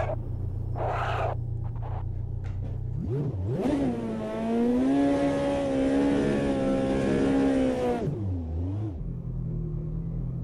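Ferrari race car engine in the Automobilista 2 racing game revving up from idle, holding a loud sustained high-pitched roar for several seconds, then dropping back to a low idle rumble, alone without speech.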